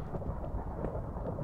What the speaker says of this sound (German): Ach, ist wieder Unwetter draußen.